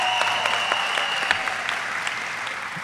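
A graduation ceremony crowd applauds the graduating class with dense, sustained clapping that stays loud and even throughout, with no speech.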